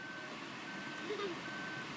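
Faint, distant reversing beeps from a backhoe, repeating over a low steady background hum.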